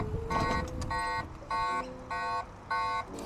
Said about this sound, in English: When I started to ride off, the acoustic alarm sounds on the bike.